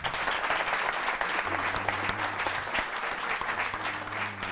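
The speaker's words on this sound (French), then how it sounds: "Je vous demande d'applaudir monsieur Olivier Boudon." Live audience applauds comedian Olivier Boudon as he takes the stage at a French comedy show, a steady, fairly distant round of clapping lasting several seconds with a faint hum beneath.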